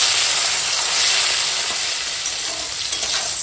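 Steamed bitter gourd and beans fry in a wok with a close, loud, even hissing sizzle that holds steady throughout and fades slightly toward the end.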